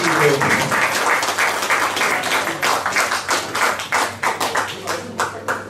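An audience at a communist party anniversary gathering for the October Revolution applauds warmly, a dense sustained round of clapping from many hands, loud and close, gradually thinning into separate claps toward the end.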